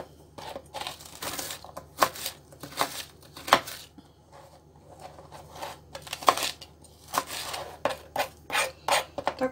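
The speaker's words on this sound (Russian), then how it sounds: "Так нарезаем весь помидор." A knife cuts a frozen tomato into cubes on a board, giving a series of sharp, irregular chopping knocks and crunchy slices at close range, with short pauses between strokes and no talking.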